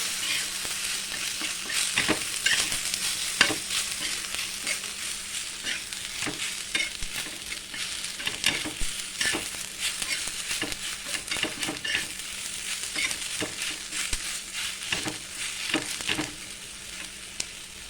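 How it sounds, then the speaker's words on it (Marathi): Sesame seeds crackle and sizzle steadily in a dry hot pan, with scattered scraping stirs and soft pops throughout. No one speaks. "मी याच्यामध्ये दोन चमचे तीळ घालून घेणार आहे तर याला पूर्ण भाजून घेणार आहे"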